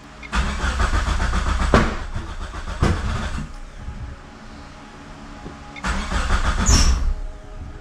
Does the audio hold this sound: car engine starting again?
yes